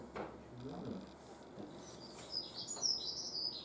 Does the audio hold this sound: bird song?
yes